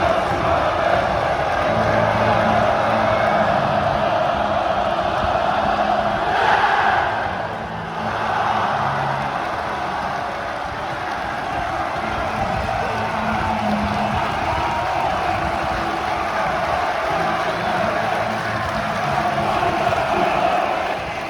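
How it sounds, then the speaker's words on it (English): A sellout away football crowd roars and cheers after a goal, a dense, sustained wall of massed voices filling the whole stretch at steady loudness, with a brief dip midway. "The sellout away crowd go mad again"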